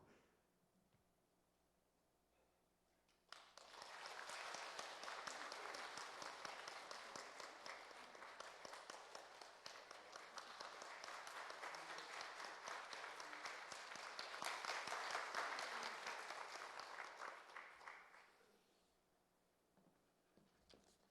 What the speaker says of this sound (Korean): 제가 성경책 전달해 드릴 때 여러분 큰 박수로 격려해 주시기 바랍니다.